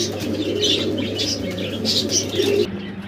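A pair of Danish magpie pigeons in a cage coo in soft, repeated throaty calls, close and fairly loud, over a low steady background hum.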